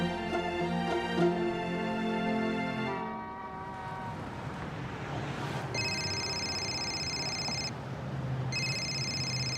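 A telephone rings in two bright electronic bursts, each about two seconds with a pause between, following a stretch of music that fades out.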